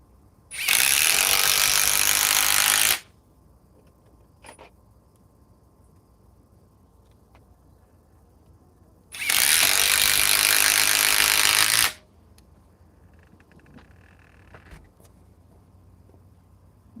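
Metabo HPT cordless impact driver on a 5 amp battery, rated around 1,900 inch-pounds with triple hammer, firing in two loud rattling bursts of about two to three seconds each, separated by quiet pauses.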